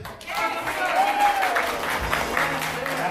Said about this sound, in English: Another round of applause for Sir James.